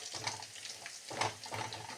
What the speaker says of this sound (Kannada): ನೀಟಾಗಿ ಬೆಳ್ಳುಳ್ಳಿ ಫ್ರೈ ಆಗಲಿ